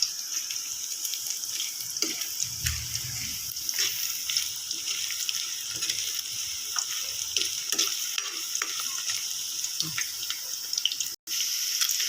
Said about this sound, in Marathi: हे तेल गरम झालेलं आपण हे पनीर तुकडे तळून घेऊया